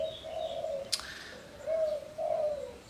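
A caged zebra dove (perkutut) gives several low, mellow coo phrases at a steady pace, with a short sharp click between the first two and no voices.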